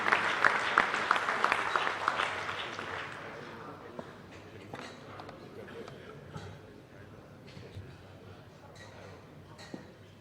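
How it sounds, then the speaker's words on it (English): An audience at an inauguration ceremony applauds in a sustained round of clapping, loudest at the start and gradually thinning out over about ten seconds. "a big round of applause for him."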